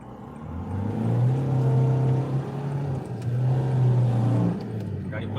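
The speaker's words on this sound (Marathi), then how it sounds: "गाडी" A car carrying an activist heads off to vote at Bori Gandhari, Maharashtra. Its engine gives a steady, close droning hum that swells and eases slightly, with voices talking over it.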